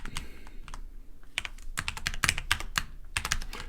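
Typing on a computer keyboard, with bursts of close, crisp key clicks arriving in irregular clusters over a low background hum, no voices.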